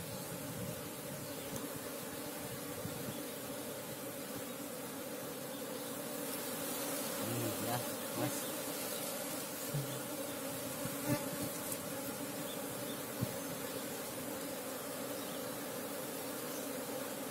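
Local Asian honey bees (Apis cerana) hum in a steady, dense swarm buzz outdoors, faint but continuous for the whole stretch with a few closer passes, and nobody speaks.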